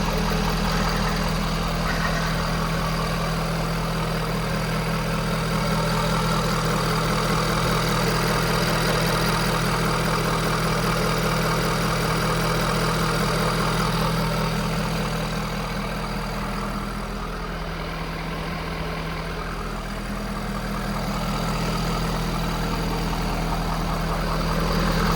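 A 2015 Ford F550 utility truck with a diesel engine runs steadily at low speed while reversing, a constant mid-to-low rumble with a slight dip in level partway through, close and unbroken.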